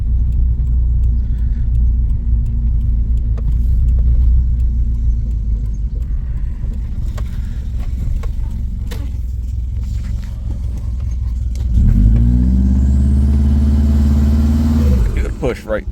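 A Subaru Forester XT's engine drones steadily from inside the car while driving, then rises in a revving pull near the end, close and prominent with someone speaking briefly over it.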